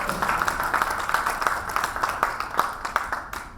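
An audience at an installation ceremony bursts into steady applause, many hands clapping in a dense, lively rhythm that fades out at the end.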